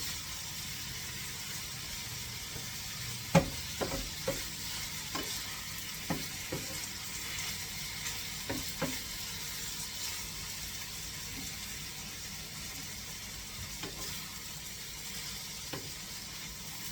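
Onions sautéing in about two tablespoons of fat in a pan: a constant soft sizzle with scattered sharp clicks and scrapes of stirring, no voices.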